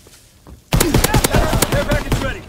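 Rapid anti-aircraft gun fire in a video game battle, a loud burst of repeated heavy shots starting abruptly and continuing steadily, with voices shouting over the din.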